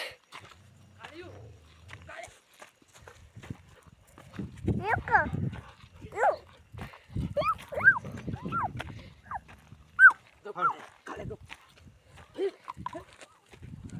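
A dog barks and yelps in short, irregular bursts while people talk nearby.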